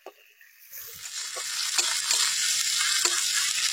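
Masala sautéing in a pan on a Bengali home stove, a steady broadband sizzle that swells after the first second, with a few soft scraping stirs, close and continuous with no voices.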